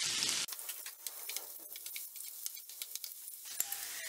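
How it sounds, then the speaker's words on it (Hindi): Garlic and ginger sizzle steadily in hot ghee for a curry tempering, a close, continuous crackling fry with no voices, after a brief louder burst at the start. "इसके अंदर चला जाएगा लहसुन और अदरक, दोनों को हम हल्का फ्राई करेंगे।"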